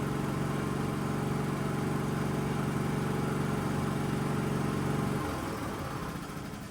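A Philking 4200 fully automatic generator runs with a steady, even drone, its tone shifting slightly near the end as the load changes.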